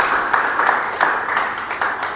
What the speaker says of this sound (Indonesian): beri tepukan untuk ibu-ibu